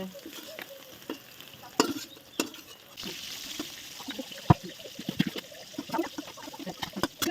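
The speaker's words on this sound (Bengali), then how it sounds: "অনেকক্ষণ থেকে মাছগুলো ভাজছিলাম" Fish frying in a pan in a home kitchen, a soft, uneven sizzle with scattered pops and spatters and a few sharper clicks, close by and quiet throughout, with no voices.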